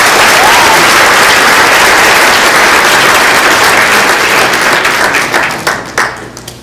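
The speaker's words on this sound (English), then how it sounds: "Let's give them a round of applause." A crowd at a wildlife day event at the Grand Canyon applauds loudly and continuously after a bird presentation, then the clapping thins out and fades into a few scattered claps at the end.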